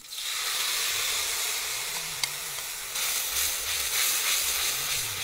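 Masala sizzling in hot desi ghee in a kadhai, a steady loud hiss with no talk, a brief click partway through and the sizzle swelling slightly toward the end.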